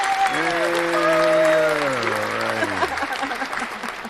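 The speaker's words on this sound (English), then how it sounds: "We're going to get some applause." Canned applause played in on a show, a burst of crowd clapping with a sustained tonal jingle gliding downward over it before fading.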